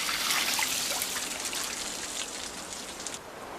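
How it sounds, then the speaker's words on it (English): Water splashing and trickling steadily over wooden racks set out in the cold to grow clean ice, a dense continuous patter like heavy rain, close and fairly loud throughout. "ice farmers repeatedly douse specially designed wood racks with water"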